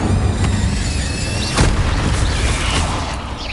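The Incendio fire spell cast in Hogwarts Legacy: a loud whooshing, booming burst of flame with a sharper pop partway through, sustained and crackling across the short clip with no talk.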